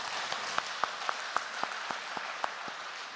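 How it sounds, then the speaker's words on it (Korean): A Sunday worship congregation gives applause, soft, steady clapping with a few sharper claps spaced at a regular rhythm, heard at a distance for a few seconds. "우리 하나님께 영광의 박수를 올리겠습니다"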